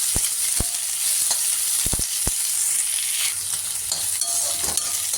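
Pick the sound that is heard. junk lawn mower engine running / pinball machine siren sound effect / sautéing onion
sautéing onion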